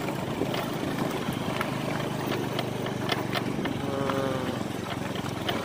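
Motorcycle riding an offroad track on the way to Koneng beach, a steady droning engine with rough rumble and clattering, sustained throughout at close range.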